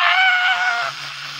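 A strained attempt at a scream by a voice that keeps cracking, coming out as a harsh, rasping, goat-like bleat that breaks off after about a second, leaving a faint low hum.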